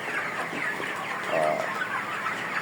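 Ready-stock broiler chickens in a poultry shed, about 36 days old and over 2 kg, cluck and murmur in a busy chorus nearby, with one louder call standing out briefly.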